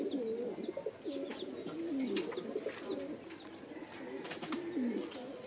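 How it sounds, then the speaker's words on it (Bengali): Afshan grizzle pigeons cooing in a steady, overlapping stream of low throaty coos, close and continuous, with faint chirps above. "অনেক সুন্দর কবুতর, আফসান গ্রিজেল"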